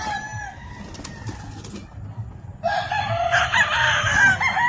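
A gamecock rooster, broodstock from Cavite, crows loudly and close by in the second half, after a stretch of softer clucking and yard noise.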